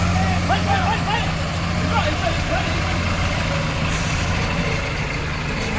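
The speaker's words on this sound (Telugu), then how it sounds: "ఎట్టో జేసీబీ దొబ్బేసి వచ్చేసింది గైస్" A JCB pushing a truck stuck in a jammed parking area near a beer factory: a steady, loud diesel engine drone with heavy low rumble runs throughout, a brief air-brake hiss near the middle, with voices talking over it.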